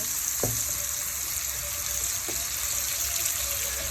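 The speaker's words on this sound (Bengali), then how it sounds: "পেঁয়াজ কুচিগুলো ভালো মতো নেড়ে নিচ্ছি" Chopped onions fry in a pan with a constant bright, hissing sizzle close by, broken by a couple of soft knocks from stirring, with no talking.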